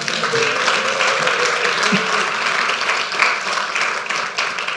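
A church congregation applauds the Lord during a sermon, a continuous wash of many hands clapping in a reverberant hall for about five seconds, with a faint voice or two under it.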